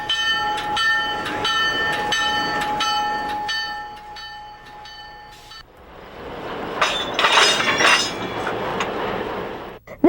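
A train passes at the Illinois Railway Museum. It starts with steady, ringing metallic tones and clinking, then a quieter stretch, then a louder rush of rolling wheels and clatter that grows and fades near the end.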